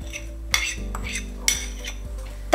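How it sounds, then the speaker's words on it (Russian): A spoon stirs cream into a homemade face mask mixture in a small bowl, with steady scraping and several sharp clinks against the side, close and clear. "Также все хорошо смешиваем."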